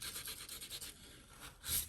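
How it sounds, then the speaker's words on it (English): Quiet, rhythmic rubbing strokes of hand sanding a wooden chopping board, back and forth at a steady pace, with a slightly louder scrape at the end. "I don't like that, so I'm just gonna sand it out."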